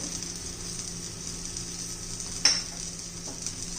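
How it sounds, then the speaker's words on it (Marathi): Oil sizzles steadily and softly on a hot iron tawa griddle, with one brief clink partway through and no talking. "थोडंसं आपण तेल घालून घेऊया साईडला, कारण हा माझा लोखंडी तवा आहे"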